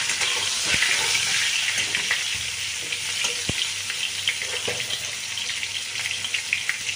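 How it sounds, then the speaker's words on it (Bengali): Pointed gourd pieces fry in hot oil in a pan, giving a loud, steady sizzle with bubbling and a few sharp clicks of stirring, close by and alone. "সুন্দর করে এইভাবে সব পটলগুলো ভেজে নিচ্ছি"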